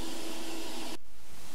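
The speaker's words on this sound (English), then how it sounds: "And then turned on the shop vac that supplies the air." A shop vac blowing air into a small homemade metal-melting furnace, a loud steady whooshing roar that cuts abruptly to a softer, duller rush partway through.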